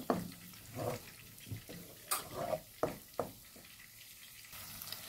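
Spice paste frying with potatoes and fish, irregular stirring scrapes and clatters over a soft sizzle, with several sharp knocks of the utensil.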